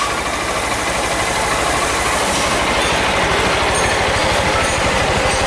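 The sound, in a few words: Titan 160 motorcycle engine idling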